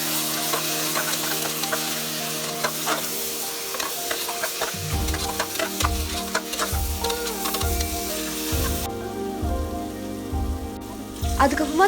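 Constant close sizzling of turmeric and chili powder in a pan with repeated stirring scrapes in a steady rhythm, over a faint tonal hum in the background.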